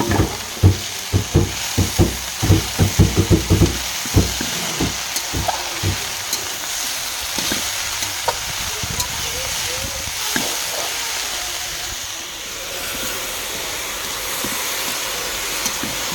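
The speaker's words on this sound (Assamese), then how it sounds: "চেংমৰা ভাজিম এতিয়া" Chengmora sizzles in a hot pan with ginger, garlic, raw turmeric and onion, a steady close hiss that runs throughout, with a burst of sharp clattering stirring taps in the first few seconds.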